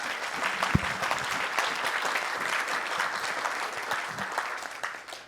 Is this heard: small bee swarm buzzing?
no